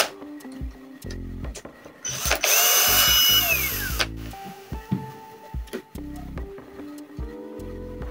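Power screwdriver backing a screw out of a Kyocera printer, in several short whirring bursts with a longer central run, close and fairly loud, with small clicks and handling noises between.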